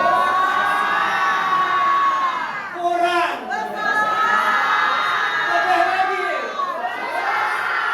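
A church congregation at an Easter service shouts and cheers together in a loud, sustained crowd roar, with children's voices audible, a brief dip in the middle before the shouting swells again.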